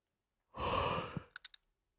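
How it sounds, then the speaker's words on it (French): A single long, breathy yawn during a yoga and spiritual breathing session rises and swells, then trails off into a few short, soft exhalations, close and alone with no talk. "Ouais, ça baille."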